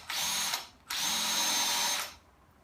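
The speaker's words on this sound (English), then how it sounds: "drill a hole" A power drill with a 5/8-inch Forstner bit whines in two bursts, a short spin followed by a longer steady run, close and loud, drilling into the end of a wooden Windsor chair leg.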